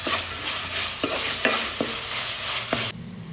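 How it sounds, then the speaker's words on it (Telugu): Masala paste with salt, chili powder and turmeric sizzles steadily in hot oil for a pomfret fish curry, with a few sharp spoon scrapes and stirs against the pan before the frying noise drops away at the end. "తరువాత ఉప్పు, కారం, పసుపు వేసుకొని బాగా ఫ్రై చేసుకోవాలి."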